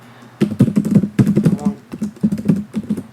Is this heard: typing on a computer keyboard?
yes